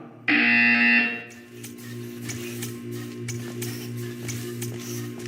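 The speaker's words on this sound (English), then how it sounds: "When you hear the buzzer, stare at the art." A loud, steady electronic buzzer in the video game Portal 2 drones for about a second, then cuts off, leaving a low hum and faint clicks.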